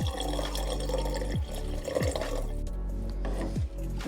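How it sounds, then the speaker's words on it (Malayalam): Water pouring into a pot of simmering tomato rasam, a close, continuous gurgling splash with repeated glugging bursts as the stream fills the liquid, heard alone without speech. "നമുക്ക് ഈ സമയത്ത് ഇതിലേക്ക് ആവശ്യത്തിന് വെള്ളം ഒഴിച്ചു കൊടുക്കാം."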